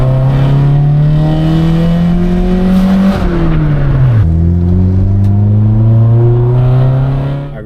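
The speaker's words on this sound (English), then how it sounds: "that exhaust sounds absolutely shit, but to me, bro, it sounds amazing" A 1999 Honda Civic EK engine revs loudly and steadily, pitch rising, dipping sharply, then climbing again in a throaty exhaust drone, close up.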